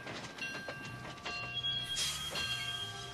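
A train rolling along in the Disney Infinity Lone Ranger video game, with a steady rumbling rail drone, faint rhythmic clicks and a short high squeal or whistle partway through, no talking.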